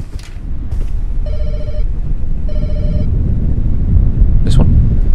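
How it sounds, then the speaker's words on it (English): A telephone rings in a horror video game with mannequins, two clear electronic ring bursts over a steady low rumble of storm noise, with a brief sharp sound near the end. "Right, phone's ringing."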